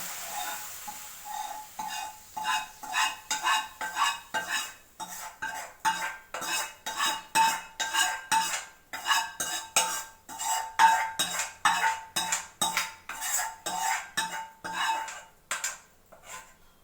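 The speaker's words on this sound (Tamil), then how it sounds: "இந்த ஸ்டேஜ் ஊற்றிட்டு கிளறி விடுங்க" A ladle stirs drumstick and brinjal sambar in a metal pot at home, giving repeated rhythmic scraping and clinking strokes, close and steady, with no talking.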